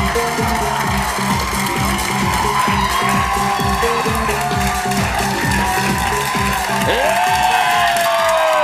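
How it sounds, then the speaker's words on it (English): A studio audience cheers, whoops and applauds raucously, a loud, dense and sustained wall of clapping and shouting that keeps going throughout. "Please keep that raucous applause going for my co-host, Liana Kay"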